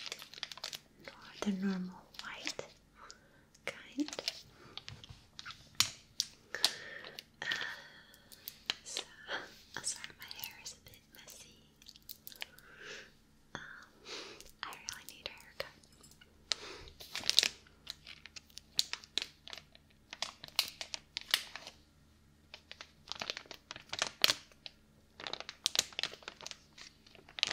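Soft plastic packaging holding latex gloves crinkles and rustles in close, intermittent bursts, with quiet whispering in between and over the handling.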